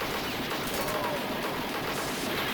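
Rapid continuous gunfire from a player's gun in a 1988 arcade shooter, a dense unbroken fusillade of game shots that stays steady and even throughout, with no talking.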